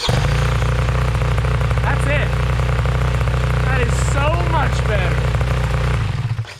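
AliExpress paramotor engine running with a new quieter exhaust, a steady low droning idle held evenly for several seconds before cutting off, with someone talking over it.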